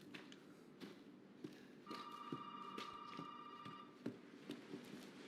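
An old telephone rings steadily for about two seconds inside a dim house in the Resident Evil 7 horror video game, heard at moderate distance over a faint ambient hum and occasional soft taps.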